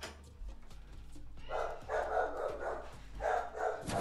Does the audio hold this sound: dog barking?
yes